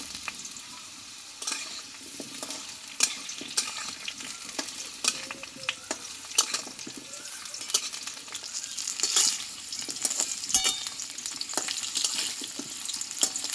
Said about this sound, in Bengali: এই রসুনটা আলুর সঙ্গে আমি একটু ভেজে নেব।